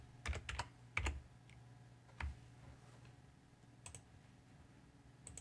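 Keyboard keys tapped in a few short bursts of clicks with pauses between, close and fairly quiet, over a low steady hum.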